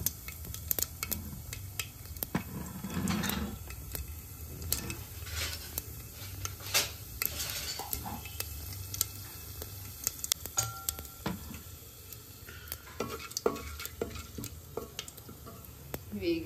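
Whole masala spices go into hot oil in a pan for a goat head curry and sizzle and crackle steadily, with scattered sharp pops, metal clinks and stirring scrapes close by. No one talks.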